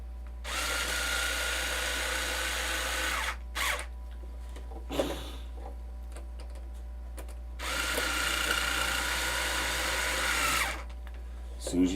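A power driver tightens a screw that pulls 3D-printed plastic parts together, giving two long steady whirring runs separated by short bursts, with a constant low hum underneath.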